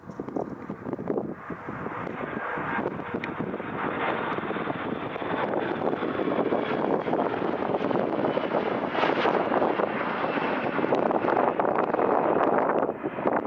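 A CityJet CRJ regional jet departs Arlanda airport with a broad, steady engine roar that holds loud throughout and swells slightly toward the end, with wind buffeting the microphone outdoors.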